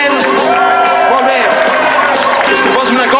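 Crowd at an outdoor solidarity rally in Valls clapping and cheering loudly, a dense mass of hands and voices close by with shouts rising over it throughout.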